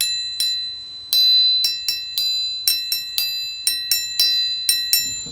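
A metal triangle is struck repeatedly in a quick, uneven rhythm, giving bright ringing chimes that are damped by hand after each hit, so most notes cut off short and only one rings longer.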